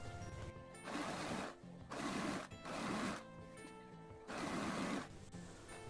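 An interlock sewing machine stitches a saree border in four quiet bursts of about a second each, with short pauses between runs.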